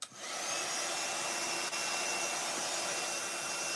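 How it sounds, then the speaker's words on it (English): A heat tool blows hot air over a mixed-media collage in an art journal, a loud, steady, close whooshing roar that starts abruptly and holds with one brief dip. "if you've got a heat tool, let's see if that makes a difference. Heat it."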